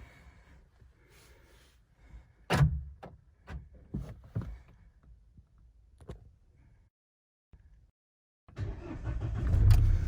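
A Mahindra Scorpio engine cranks in a few sputtering bursts after a jump start, falls briefly quiet, then catches and runs with a steady close rumble.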